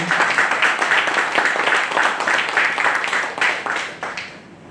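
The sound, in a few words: audience applause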